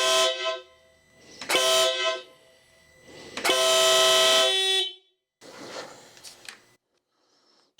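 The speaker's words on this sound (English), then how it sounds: "So to test this horn, I'm in a garage, hearing protection." A Denali Soundbomb horn on a BMW R1300 GSA motorcycle blasts inside a garage: three loud, harmonic honks of varying length, the longest about a second and a half, followed by fainter echoing bursts.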